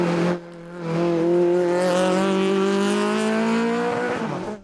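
Citroën Saxo rally car in the F2002 class at a production-series hillclimb, its engine droning loud and close with a rising, sustained tone before cutting off sharply at the end.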